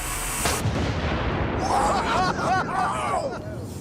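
A blank shell fired from a cannon gives a sharp, loud bang near the half-second mark, followed by rumbling echoes and excited voices and chatter from a small group close by.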